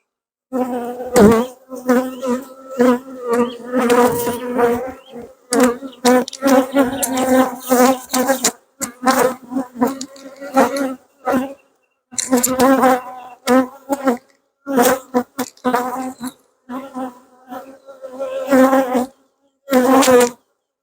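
Close, loud buzzing of many honey bees in an open hive box, nearly continuous with frequent surging bursts and brief dips.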